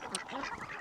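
Faint, busy honking and quacking from a group of geese and ducks, overlapping calls with a murmur of voices underneath.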